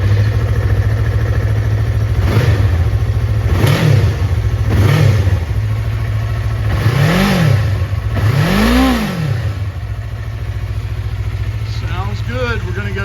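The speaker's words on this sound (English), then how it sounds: "So let's give it a start." A 2021 Yamaha MT-03 motorcycle engine starts and idles near the microphone, then revs sharply five times in rising bursts, each swelling and falling back to a steady idle.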